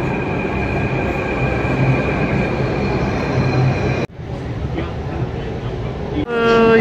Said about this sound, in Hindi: ये आ गया अपना ट्रेन।